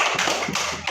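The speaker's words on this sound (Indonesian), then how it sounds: "tepuk tangan juga" A few scattered hand claps from students in a classroom, light and uneven, sounding close and brief rather than full applause.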